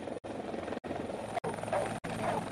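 A rescue helicopter thumps with fast, rhythmic rotor beating under a steady engine roar, loud and close, with brief breaks in the sound.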